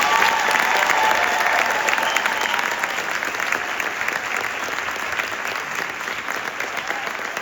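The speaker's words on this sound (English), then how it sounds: "Would you please give these students a round of applause?" A school band concert audience gives a loud, sustained round of applause for high school band students in an auditorium, dense clapping holding steady for over seven seconds and easing slightly toward the end.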